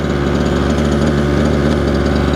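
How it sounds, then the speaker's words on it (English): A Redcat Rampage RC car's small gas engine idles close by, a steady, loud, even buzzing rattle with no talk over it. "Look at that idle. It is so damn nice."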